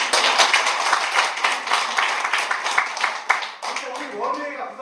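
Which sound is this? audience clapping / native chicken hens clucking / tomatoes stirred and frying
audience clapping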